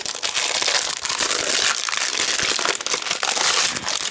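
Crinkling and crumpling of a stamp, die and stencil craft kit's packaging being opened up close, with rustles and crunches coming in uneven bursts, no talking.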